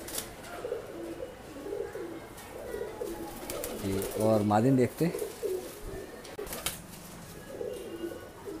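Rampuri cross pigeons coo in soft, repeated low bursts, loudest around the middle, while someone talks over them.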